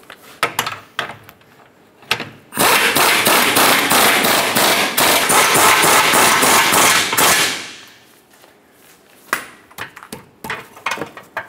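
A hammer drives a rear lower control arm bushing into place on a 2007-2012 Nissan Altima, with sharp, close knocks at the start and end and a loud, sustained rattling mechanical burst in the middle.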